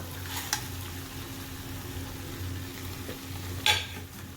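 Koi fish go into a pan of frying spice masala and oil, bringing a soft, steady sizzle with two sharp splashy bursts as pieces drop in, fairly quiet and close, without speech.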